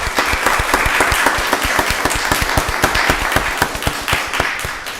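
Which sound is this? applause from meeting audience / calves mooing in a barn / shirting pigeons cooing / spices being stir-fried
applause from meeting audience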